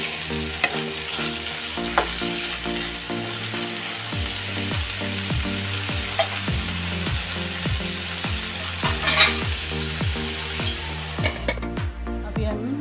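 Food for Indian katori chaat fries in a covered pan, a constant sizzle and crackle with a regular rattling, ticking rhythm of the lid throughout, no talking.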